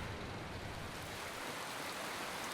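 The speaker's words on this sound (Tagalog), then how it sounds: "Wala kasing hinto ang ulan nung gabing yun" Heavy rain at night making a steady, dense hiss that fills the whole stretch without let-up, a constant wash of drops at moderate level with no distinct patter or voice.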